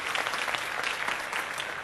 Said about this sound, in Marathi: जोरदार टाळ्या विजेत्या संघासाठी आपण वाजूयात.